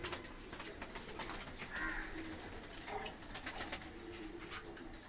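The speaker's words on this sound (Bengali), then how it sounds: "দেখেন কবুতর কি সুন্দর করে খাচ্ছে" Pet pigeons feeding in a rooftop garden, with a few soft, distant coos over steady outdoor background noise.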